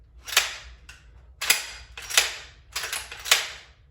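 A semi-auto rifle with a 5-round capacity is hand-cycled, giving a series of sharp metallic clacks at close range, about five in quick succession with short gaps between them.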